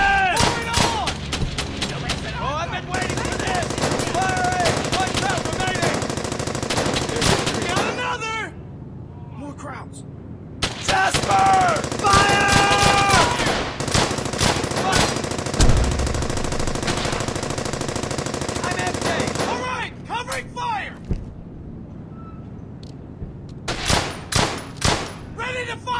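Sustained machine gun fire in the World War II shooter Brothers in Arms: Hell's Highway, dense automatic bursts running through nearly the whole stretch with shouted voices mixed in and a brief lull midway.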